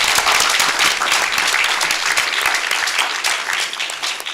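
Audience at a school district board meeting breaks into loud, dense applause for a student being recognised, a continuous wash of many hands clapping nearby that fades a little at the close.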